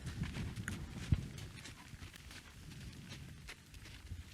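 A horse's hooves step sideways on the ground, giving irregular, close clip-clop footfalls with one sharper hit, against faint background noise.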